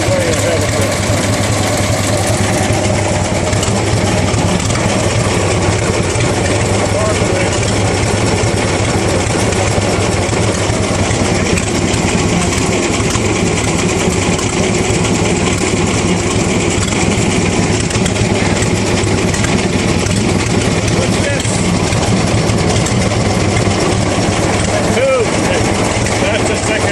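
A 1912 Packard truck engine with a cast-aluminum lower half runs steadily at idle, a continuous close mechanical rumble with faint knocking that holds level throughout.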